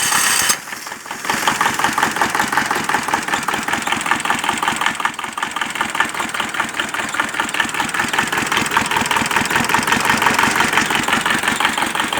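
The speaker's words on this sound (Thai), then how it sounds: "ติดเครื่องก่อน" A pickup truck engine cranks and catches, then settles into a steady, loud idle with a rapid rhythmic knock close by.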